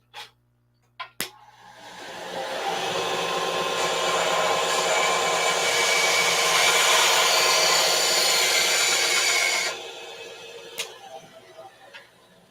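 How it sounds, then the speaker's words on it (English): A bandsaw cuts a pipe at an angle during a build, a steady loud buzzing whir lasting about eight seconds, bracketed by a few sharp clicks and knocks before and after. "So I just basically have a bandsaw over on the other side of the camera. That's what that was."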